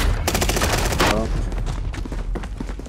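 Call of Duty gunfire, a dense burst of rapid shots up front followed by scattered single shots and game noise, loud and close throughout.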